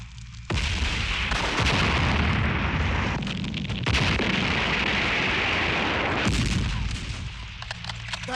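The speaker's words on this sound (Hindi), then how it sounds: "धर्मवीर साहब आ रहे हैं, उन्हें कवरिंग फायर दो।" Covering fire in a Hindi action film's battle scene: dense, continuous gunfire and artillery booms roar loud and unbroken, swelling in fresh barrages several times.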